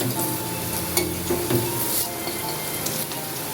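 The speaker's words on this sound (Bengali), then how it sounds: "দু পিঠ কড়া করে ভেজে তুলে রাখছি" Masoor dal fritters frying in hot oil, a steady close sizzle with a few scraping stirs and light clinks breaking through, no voices.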